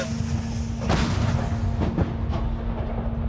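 A few heavy booming artillery shots ring out over a steady droning hum, with a distant rumbling echo after each, in the war around Chasiv Yar, Ukraine.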